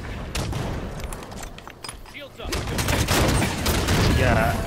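Rocket launcher fire in Halo 5: Guardians, with bursts of weapon blasts and booming impacts that build louder toward the end amid busy game action.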